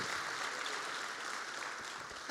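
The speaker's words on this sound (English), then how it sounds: "Round of applause for our little Power Ranger cosplayer." Convention Q&A audience clapping for a child Power Ranger cosplayer, a dense continuous burst of applause from a crowd throughout, fairly near and even, with no talk over it.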